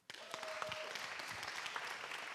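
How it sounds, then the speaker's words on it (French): Audience applause at a youth summit closing session, a dense, steady round of clapping that starts suddenly and carries on evenly throughout, with a brief tonal sound early on. "Allez, on les applaudit."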